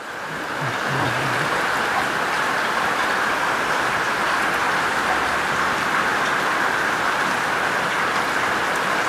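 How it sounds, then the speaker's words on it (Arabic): Heavy rain pours in a dense, continuous hiss that swells in over the first second and then holds steady and loud with no voices. "صوت المطر جميل"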